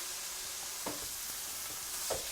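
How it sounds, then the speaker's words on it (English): Ground beef, a pound of it, frying in a skillet while lasagna is prepared, giving a steady soft sizzle with a few brief stirring scrapes; no talking. "we're going to add our pound of ground beef into our skillet here"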